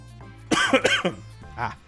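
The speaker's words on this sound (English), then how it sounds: "The cough." A person gives two or three quick, harsh coughs close to the microphone, followed after a pause by a short throat-clearing sound, with faint background hum.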